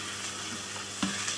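Chicken, about 250 grams, sautéing in a pan with sizzling oil gives off a steady crackling hiss, broken by one brief scrape of stirring near the end.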